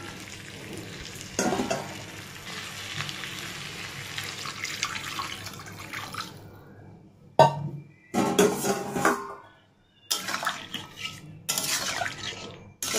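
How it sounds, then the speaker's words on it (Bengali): Water is poured into a cooking pot of small potatoes and egg curry, giving a sustained splashing and sizzling rush that breaks into shorter bursts and clinks of stirring toward the end, close and without talk. "এবার জল ঢেলে দেবো পরিমাণ মতো"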